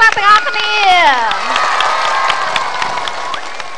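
An audience at a Cambodian TV variety show breaks into applause and cheering, a broad clapping wash following a voice and fading gradually over a few seconds.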